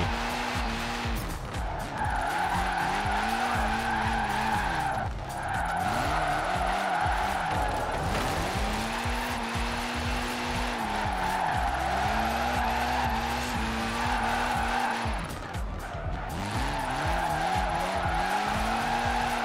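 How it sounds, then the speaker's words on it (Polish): Rear-engined car in Forza Horizon 4 drifting, with a loud revving engine rising and falling in repeated sweeps and long tire squeals and skids layered over it, no talk. "Trochę ciężka fura do driftu. Dziwnie się driftuje."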